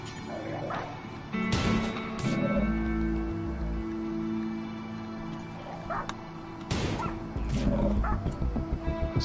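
Barks and yips of a dog in Rimworld, the colony game, a few sharp bursts spaced over a low droning game background, with someone talking in between.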